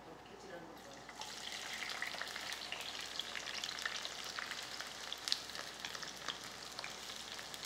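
Onions go into hot oil in a pan for an egg curry, giving a steady, fairly quiet sizzle and crackle that rises after a brief moment and holds throughout with small pops.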